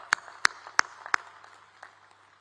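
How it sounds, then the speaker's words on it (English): Hands clap for graduating students at a university convocation ceremony: four loud, close, evenly spaced claps, then a few fainter scattered ones trailing off. "ask all others in this audience to give a big round of applause to our graduating students"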